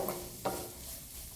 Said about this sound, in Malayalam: ചേർത്ത് നന്നായി ഇളക്കുക.